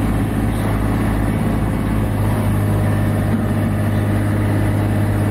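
A Niftylift HR28 boom lift's diesel engine runs at a steady idle, a continuous low rumble heard close and alone with no talk.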